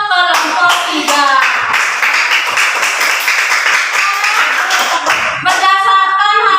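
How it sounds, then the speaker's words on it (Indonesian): Classroom applause for a presenting student group, a steady burst of many hands clapping for about five seconds, with voices heard briefly before and after. "tepuk tangan untuk kelompok 3"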